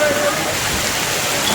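Heavy rain pouring down on a market street in the hill town of Matheran, a loud, dense, unbroken hiss filling the whole short stretch.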